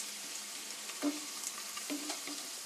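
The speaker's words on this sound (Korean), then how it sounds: "적은 기름으로도 칩을 만들 수 있어요. 마늘칩, 갈릭칩." Garlic chips frying in a small amount of oil, a soft continuous sizzle up close with a couple of faint stirring clicks.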